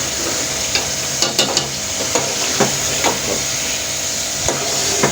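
Kaleji (liver) frying in a pan with tomatoes, onion and spices, a steady sizzle under scattered scrapes and taps of a stirring spoon, close and moderately loud with no talking.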